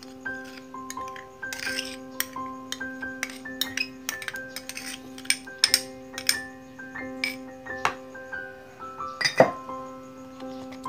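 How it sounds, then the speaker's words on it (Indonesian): A whisk clinks repeatedly against a bowl while condensed milk is beaten into banana steamed-cake batter, sharp metallic taps in an uneven rhythm, close and clear with no talking. "Kita kocok."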